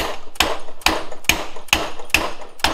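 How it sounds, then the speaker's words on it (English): A 12 mm socket is struck to drive the wrist pin out of a Honda CR500 two-stroke piston, giving six sharp, evenly spaced hammer taps, loud and close with no voices. "you can actually tap it through and get the wrist pin to drive out"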